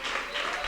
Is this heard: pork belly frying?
no